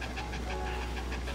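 A dog pants rapidly in short, rhythmic breaths close by, with steady low background hum.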